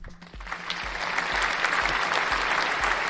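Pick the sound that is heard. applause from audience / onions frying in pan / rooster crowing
applause from audience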